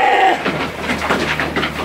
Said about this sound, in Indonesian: Kambing itu mana lokal?